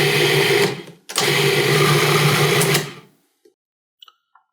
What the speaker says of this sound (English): These are going to go right in the food processor, and we're going to chop these down very finely